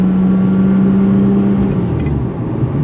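A deep Ferrari 550 Maranello engine drone heard from inside the moving car, steady and loud, with a low rumble underneath.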